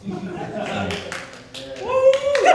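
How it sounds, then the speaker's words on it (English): A lone pity clap from the audience at a live improv Dungeons & Dragons show at Gen Con, a sparse, isolated clap among chatter and voices, with a rising tonal sound near the end. "That one pity clap"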